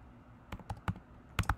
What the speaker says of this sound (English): I'm typing in United Nations